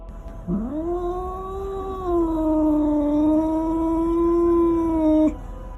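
A single drawn-out animal growl or low moan, close and steady, lasting several seconds before cutting off abruptly.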